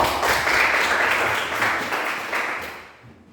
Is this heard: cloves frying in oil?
no